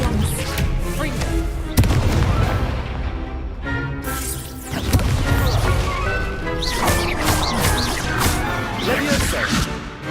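Fire-blast spell explosions during Hogwarts Legacy combat arrive as loud crashing blasts and cracks, one sharp hit near two seconds and a dense volley after four seconds, amid busy battle noise.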